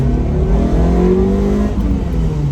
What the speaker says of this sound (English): 4G63 engine just loves to rev.